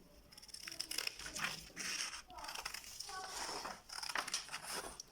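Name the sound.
cutting out paper shoe pattern shape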